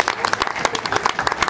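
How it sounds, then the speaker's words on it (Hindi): Audience clapping at the opening ceremony of a community champions league, a brief burst of dense, close applause with scattered individual claps. "आपकी भरपूर तालियों में"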